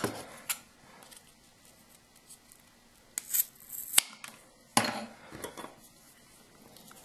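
Scissors snipping through paracord strands while a two-colour bracelet is being made, with a few sharp, close cuts and light handling rustle between them and no talk.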